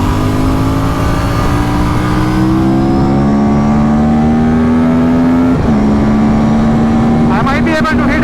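An Aprilia RS457 parallel-twin sport bike drones loudly at high revs, then drops its pitch abruptly as it downshifts into a corner, with quick throttle blips near the end.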